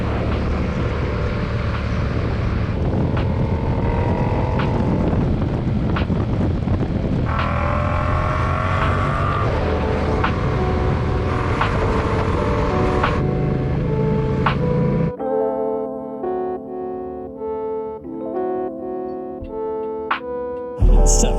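A motorcycle being ridden, recorded by a helmet-mounted camera, with loud steady engine drone and wind rush for most of the ride, then the engine drops away and music plays alone.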